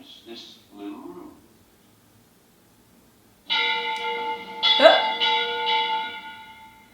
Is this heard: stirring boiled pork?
no